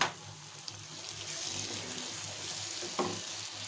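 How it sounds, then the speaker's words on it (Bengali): Spices fry quietly in a pan with lightly browned onion for a beef bhuna, giving a soft, steady sizzle with one small knock near the end. "এখন আমি মশলাগুলি একটু ভেজে নিব।"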